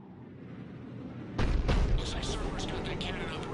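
Cannon fire in the video game Mass Effect 3: a low rumble builds, then a heavy booming blast bursts out about midway and rolls on in a sustained roar of explosions and crackling.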